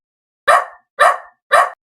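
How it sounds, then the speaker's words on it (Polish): A dog gives three sharp, loud barks, evenly spaced about half a second apart, close by with silence between them. "jest mój piesek Max."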